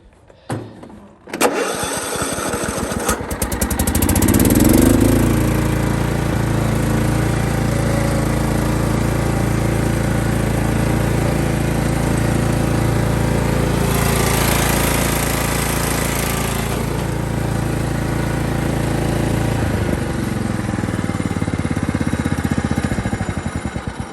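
Kohler CV460 small engine, just fitted with a new head gasket, cranks briefly, catches and settles into a steady, loud, close running drone that holds for the remainder, with no talking.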